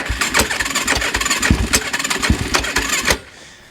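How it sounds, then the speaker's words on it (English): Yamaha YFZ450 ATV with a rebuilt engine cranks and fires up, running with loud uneven popping and sputtering bursts close by, then cuts off abruptly into near silence. "Let's adjust the idle a little bit."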